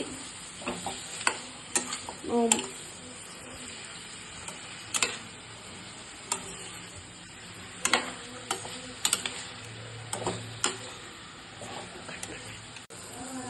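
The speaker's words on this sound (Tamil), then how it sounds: "வெங்காயம் இப்போ நல்லா வதங்கிச்சு." Onions sautéing in a pan, a soft steady sizzle under scattered stirring clicks and scrapes, with occasional brief voice sounds in the background.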